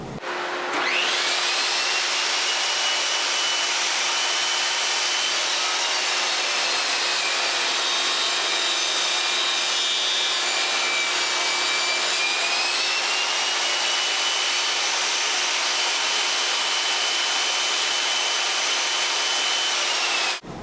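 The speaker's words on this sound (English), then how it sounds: "So this is my table saw that I bought from Sears, the Craftsman table saw, sliding table saw that actually cuts this." A Craftsman sliding table saw cuts guitar neck wood for a Les Paul-style build, a loud, steady, high-pitched whining roar held for the full stretch, with the pitch shifting slightly as the blade works through the wood.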